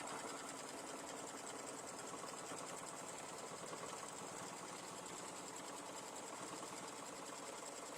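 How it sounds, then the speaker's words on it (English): A sewing machine runs steadily through a final securing stitch that loops around twice while making a pumpkin place-setting mug rug, a continuous close mechanical whir with no pauses. "we're just going to do our last stitch. It is going to go around twice"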